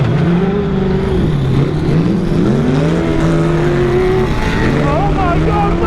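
Sandrail engines, a 1700HP and a 500HP rig, roar in a drag race at the Glamis dunes, a loud sustained engine note whose pitch climbs and shifts as they accelerate, with voices faintly underneath.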